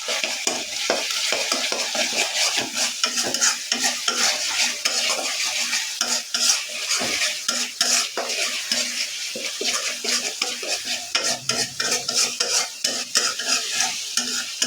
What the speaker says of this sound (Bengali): পাশটা একটু সুন্দর করে ভেজে নিলেই কমপ্লিট আমাদের ভাজা হয়ে যায়।